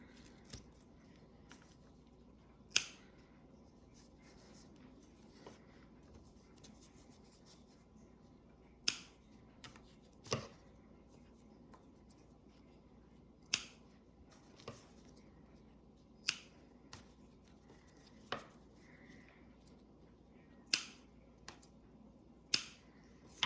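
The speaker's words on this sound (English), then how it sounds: "I'm going to trim the tails off of my yarn pieces and my ribbon pieces" Scissors snip yarn and ribbon tails for a handmade dream catcher, with about a dozen sharp, isolated clicks spaced irregularly over a quiet room hum.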